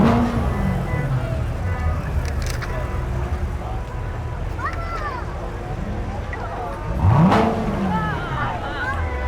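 Sports cars from a car club cruising in a St. Patrick's Day parade in Ventura County, several engines revving and passing by with rising and falling whooshes under a steady background of announcer talk.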